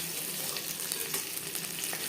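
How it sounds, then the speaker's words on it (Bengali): Masala-coated fish frying in hot oil in a pan over a medium flame, a steady close crackling sizzle with small bright pops throughout, no voices. "মিডিয়াম ফ্লেমে একটা সাইড ভাজা হয়ে গেলে অপর সাইডটা উল্টে দেবো"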